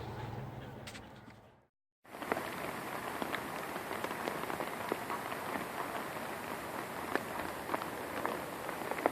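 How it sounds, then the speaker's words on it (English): Steady rain patters on a surface, dense and close, after a brief silence near the start; no voices. "Still raining."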